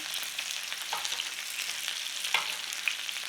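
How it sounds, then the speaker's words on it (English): A steak fries in a pan while being basted, giving a close, steady crackling sizzle with small irregular pops and spits throughout, and no one speaking. "Now you can baste over the top whilst it's cooking on that side."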